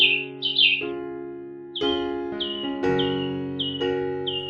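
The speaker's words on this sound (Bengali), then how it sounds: "এক রঙিন ছোট্ট পাখি এসে বসল, আর মুহূর্তেই জোরে ডাকতে শুরু করল" A small colourful cartoon bird calls loudly, giving a run of bright, rising chirps in short bursts that repeat several times over a sustained musical backing.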